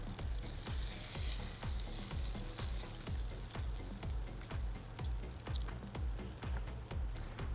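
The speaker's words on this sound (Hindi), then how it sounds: "ये शॉट्स जो हैं चिकन के जो हमने बनाए थे, ठीक है, ये फ्राई होने के लिए ऑयल में ऐड कर देते हैं" Chicken pieces frying in hot oil, a continuous bubbling sizzle with regular soft knocks and stirring scrapes at an even rhythm, close and moderately quiet, with no talk.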